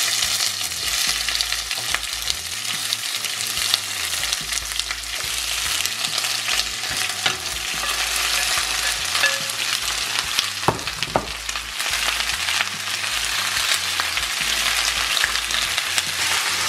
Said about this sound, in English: you know your oil is hot when you can put an onion and it sizzles